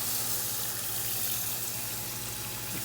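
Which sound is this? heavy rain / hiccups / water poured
water poured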